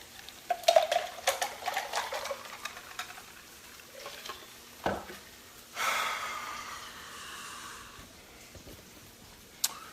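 Pasta sauce being stirred in a pot for roasted veggie rigatoni with bacon, with scraping spoon-on-pot clatter and soft sizzling, loudest in the first two seconds, then a few sharp knocks and a wetter swirl later, with no talk.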